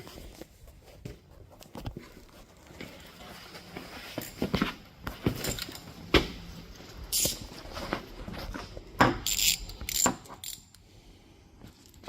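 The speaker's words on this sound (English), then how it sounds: "So we can pull the ratchet and hopefully the socket comes with us." A ratchet and socket working on a supercharger mounting nut during a 1999–2005 Mazda Miata install, heard as close metallic clicks, clinks and jangling taps of tools and hardware, irregular and fairly loud.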